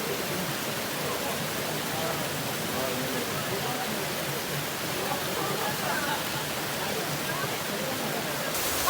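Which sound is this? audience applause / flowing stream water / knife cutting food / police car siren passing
flowing stream water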